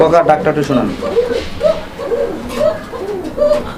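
A pair of red chuli pigeons coo in soft, repeated low hoots about every second, close by, while people talk over them.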